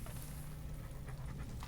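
A dog in the Dishonored 2 video game pants quietly in quick, rhythmic breaths over low game ambience, brief and faint, with no talking.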